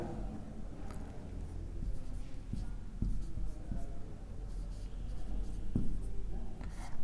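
Handwriting during a Hindi-language geometry lesson on triangle similarity, a steady soft scratching of a pen or chalk on a writing surface with occasional sharper taps, continuing close and moderate in level throughout.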